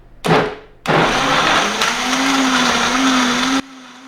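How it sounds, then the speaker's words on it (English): A high-powered blender blending a breakfast smoothie: a short opening pulse, a brief pause, then a loud, steady whirring run of about three seconds that cuts off abruptly. "you've got to have either a Vitamix or a professional blender"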